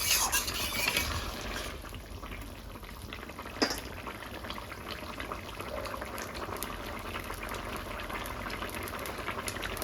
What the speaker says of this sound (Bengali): এখন মাছটা দিয়ে দেবো, ওগুলো সবগুলোই দিয়ে দেবো। একটু হালকা ফুটিয়ে নিয়ে তারপরে নামিয়ে নেব।